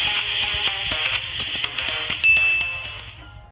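A bright electronic notification bell chimes in quick repeated dings, loud and ringing, fading out at the end with no voices.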